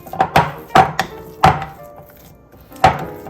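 Room-temperature butter mashed together with roasted garlic fresh from the oven, heard as about five sharp, close knocks of a utensil against the bowl in an irregular rhythm.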